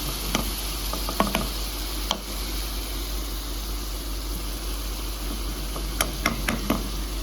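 Prawns frying in masala give a low, continuous sizzle, broken by scattered clicks and scrapes as a spoon stirs the pan, with louder bursts of stirring near the start and the end.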